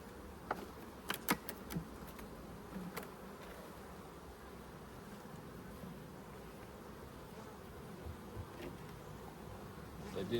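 Honey bees buzz around an open hive during an inspection of honey supers and brood chambers, a steady, soft drone with a few brief close clicks and knocks early on.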